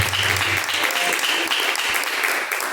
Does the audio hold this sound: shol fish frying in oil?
no